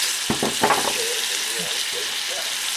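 Food with bones sizzles and spits in a frying pan, a steady close crackle with a few sharper stirring clatters near the start.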